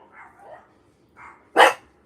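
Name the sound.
dog barking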